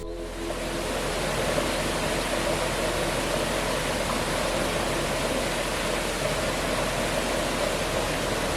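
Waterfall at Falan, Tolima, Colombia, whose water miners once channeled to wash minerals: a dense, constant roar of falling water, loud and unbroken throughout with no voices.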